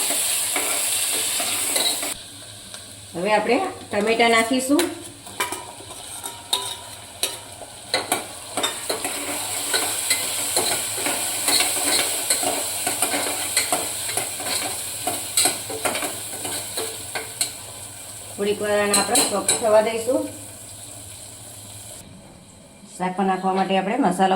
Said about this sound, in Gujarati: હવે આપણે આમાં ડુંગળી નાખીશું ડુંગળીને આપણે થોડીક વસાત આપીશું